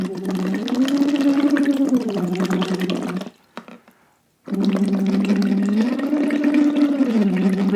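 A voice hums steady pitched tones through a glass straw into a water bottle, the water bubbling throughout, then a short gap of near silence and a second sustained bubbling hum, close and loud.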